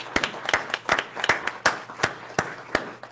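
A small group claps with sparse, distinct separate claps at an uneven rhythm, close and fairly loud, briefly filling a pause in conversation.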